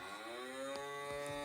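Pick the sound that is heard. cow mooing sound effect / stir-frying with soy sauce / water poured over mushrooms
cow mooing sound effect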